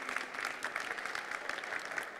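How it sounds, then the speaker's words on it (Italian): Applause from a crowd at an Italian public event, steady dense clapping that carries on through the whole stretch with no talk over it. "Un applauso generale per tutti."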